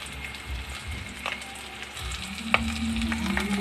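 Onions hit hot oil in a pan for fried rice and set off a sizzle that swells and steadies, with a few sharp pops and a spatula scrape near the end. There is no talking.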